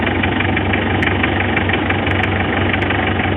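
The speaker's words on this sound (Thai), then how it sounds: "เสียงเครื่องนิ่มดีเลยสบายสุดยอดครับ" A vehicle engine idles steadily with a low, even rumble and faint knocking, running alone without speech.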